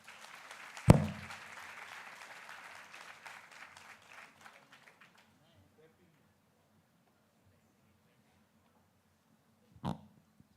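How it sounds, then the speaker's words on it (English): Students at an induction ceremony for a catering college in Mumbai applaud themselves, a loud burst that swells then fades over a few seconds into a quiet hall, with a sharp knock near the end. "please give yourselves a huge round of applause"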